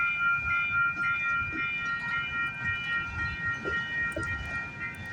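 CPKC freight train hauling empty auto racks rolling past at Galt, a steady low rumble of wheels and cars with a sustained high metallic squeal riding over it.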